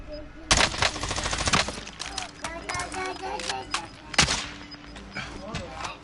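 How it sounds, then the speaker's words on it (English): Rapid automatic gunfire from a battle royale video game crackles in a dense burst, then a further single heavy shot follows, all under ongoing game sounds and a person talking. "I'm being shot at."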